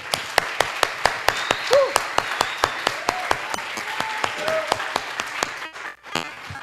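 A church congregation claps in a steady, rhythmic beat with some cheering mixed in, then the clapping stops abruptly.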